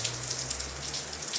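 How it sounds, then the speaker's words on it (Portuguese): Steady rain falling outside during a biscuit clay craft session, a soft continuous hiss of drops with faint scattered pattering, low hum underneath, no voices. "Agora vocês devem estar escutando o barulhinho de chuva."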